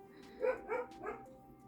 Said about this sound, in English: That's mudflap barking.